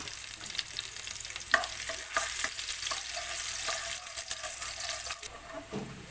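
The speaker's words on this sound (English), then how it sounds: "So first we have to throw our garlic, chopped garlic, and just saute" Chopped garlic sautéing in hot oil in a pan for a Filipino beef stew: a continuous bright hiss and crackle with occasional stirring clinks, close and steady, no voices.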